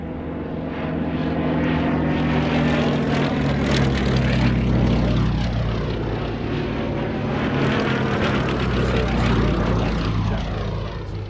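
A camouflaged Westland Lysander flies past at an evening air show, its piston propeller engine a loud, throaty drone that swells and fades gently as it passes, filling the whole stretch.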